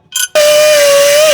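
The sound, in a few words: grinding a hole in exhaust metal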